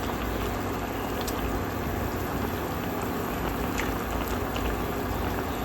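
Fish curry simmering in a pot, a steady, continuous bubbling and seething boil held close and even throughout, with no talk over it.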